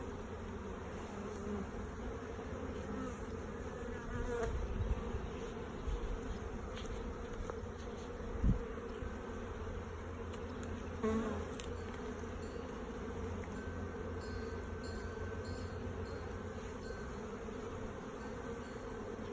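Honeybees drone in an opened hive during a January inspection in North Carolina, a close, continuous buzzing with occasional louder passes of individual bees and faint handling noises.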